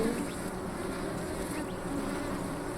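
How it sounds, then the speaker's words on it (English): Bees and bee-like parasitic flies buzzing over tunnel openings in the Sonoran Desert, a steady dense drone of many insects with faint passing whines, continuous and close, no voices. "Parasitic flies who look like bees hover over the tunnel openings and squirt their eggs down toward the pollen stores below."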